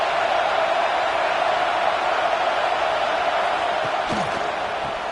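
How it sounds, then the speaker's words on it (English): Football stadium crowd roaring steadily throughout, a dense, loud wash of cheering with a few brief thumps near the end. "This crowd knows when to bring it."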